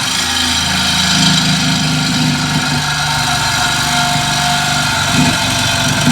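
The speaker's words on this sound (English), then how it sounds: "we're going to go ahead and finish cutting off our end of our exhaust pipes" A Sawzall reciprocating saw cuts through a car's exhaust pipe with a loud, close, continuous buzzing drone that holds steady throughout.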